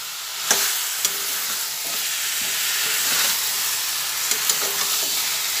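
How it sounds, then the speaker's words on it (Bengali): Chicken mixed with salt and turmeric is stirred in a hot pan, a steady sizzle broken by a few sharp spoon knocks and scrapes against the pan, close and with no voices. "এইভাবে মেশাতে মেশাতে ভালোভাবে নাড়িয়ে দিচ্ছি।"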